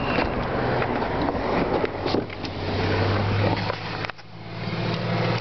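A 2004 Toyota Highlander engine cranks and settles into a steady, low idle drone, with a brief mechanical click and a small dip partway through.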